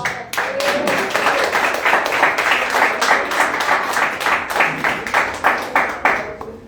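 A church congregation claps together in a dense, continuous round of applause, with sharp individual claps standing out near the end as the clapping thins.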